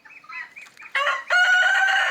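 A Black Australorp chicken gives a few short, wavering clucks, then breaks into a loud, drawn-out call close by.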